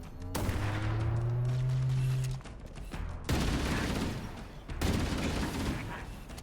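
Heavy gunfire from a shade turret in the Halo video game booms in three loud bursts separated by short gaps, each a dense crackling volley that decays slowly, with a sustained tonal hum before the first burst.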